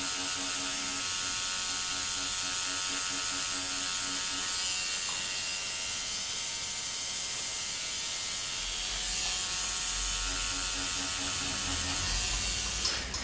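A tattoo machine fitted with a round shader needle buzzes steadily while shading a rose tattoo, a continuous close electric hum with faint rhythmic pulsing and no talk over it.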